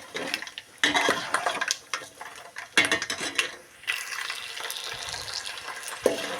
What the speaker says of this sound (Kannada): ಇದು ಒಂಚೂರು ಬ್ರೌನ್ ಕಲರ್ ಬರೋಂಗೆ ಫ್ರೈ ಮಾಡ್ಕೊಳ್ಳೋಣ